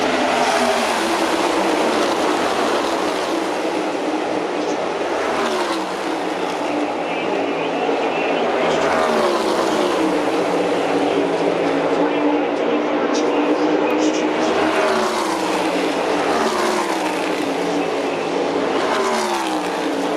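NASCAR Cup Series cars race at Daytona in the Coke Zero Sugar 400, on the final lap of stage 2, a constant loud engine roar whose pitch sweeps up and down as the pack passes, with voices beneath it.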